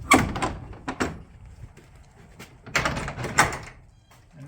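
A wooden barn double door on a sheep farm is unlatched by pulling a trigger latch and swung open, with several clunks, rattles and a knock of the hardware, close and fairly loud.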